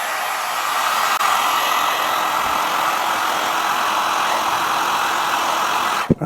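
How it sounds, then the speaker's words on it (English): A heat gun blows hot air over a pair of worn Loake leather shoes, a steady, loud broadband whoosh that runs unbroken for about six seconds before it cuts off at the end. "Now I'm going to use a heat gun, but you could easily use a hairdryer."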